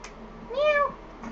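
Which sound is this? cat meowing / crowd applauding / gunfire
cat meowing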